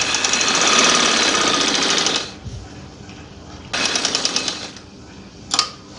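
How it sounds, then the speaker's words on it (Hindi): A sewing machine runs in two loud, steady bursts while stitching a trouser seam, rattling fast and close, with a short quiet gap between and a brief knock near the end. "इस तरीके से हमने यहाँ पे आके सिलाई को पक्का कर लेना है इस तरीके से"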